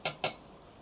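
Two quick clinks as ground spice is tipped from a small vessel into a mixer jar, close and fairly faint, followed by quiet.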